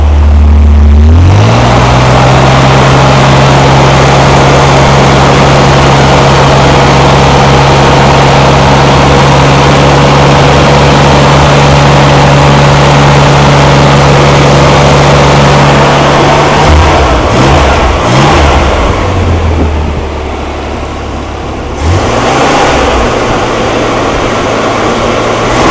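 Small engine on a homemade rampy, started for the first time, runs with a loud steady drone and then revs up and down in rough bursts near the end, close and alone without talk.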